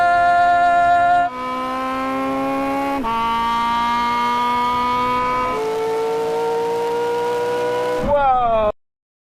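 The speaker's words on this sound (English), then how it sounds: "The Porsche jumps again, instant electric torque. Ferrari tries to claw back round, the V12 screams." A McLaren P1, Porsche 918 and LaFerrari V12 hypercars drag race, with a loud, close engine howl climbing steadily in pitch, dropping sharply at each gear shift and rising again, cutting off abruptly at the end.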